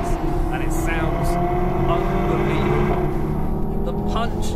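A 2016 Audi TT RS's 2.5-litre five-cylinder engine drones loudly and continuously throughout, a steady rich hum that fills the whole clip.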